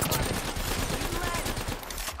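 Sustained automatic gunfire in a shooter video game, a dense rattle of rapid shots that stays loud from start to finish, with a voice talking over it.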